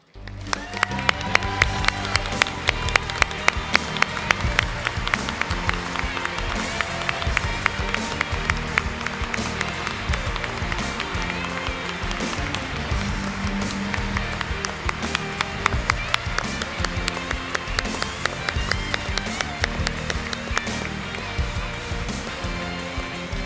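Warm audience applause at a YMCA Hall of Fame induction ceremony rings out as a sustained wave of crisp, steady clapping that carries on evenly from start to finish.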